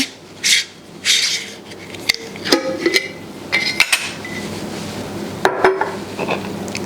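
Kitchen utensils clatter and clink while a spoon is fetched during apple pie filling canning: scattered close metallic taps and knocks over a low background hum.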